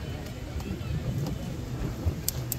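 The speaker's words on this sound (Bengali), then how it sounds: "অনেক বাতাস" Strong wind buffets the microphone on an open rooftop café at evening, a steady broadband roar with gusty low rumble throughout, continuous and close.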